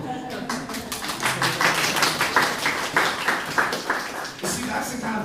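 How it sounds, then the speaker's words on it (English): A church congregation applauds Lindsay during a sermon, a steady wash of many hands clapping in a room for several seconds, with voices mixed in underneath. "give a round of applause for Lindsay"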